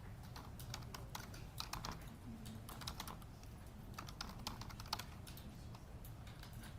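Hard, fast keystrokes on a computer keyboard in a courtroom during a trial, clicking in quick uneven bursts over low background rumble, with no voices.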